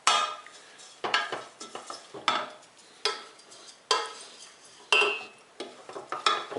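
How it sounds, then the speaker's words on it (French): Wooden spoons stir lumps of Marseille soap as they melt into a homemade dish soap, producing repeated scraping, knocking strokes against the pot roughly once a second, close and clear with no talking. "Je vais me prendre 10 cuillères en bois pour remuer tout ça."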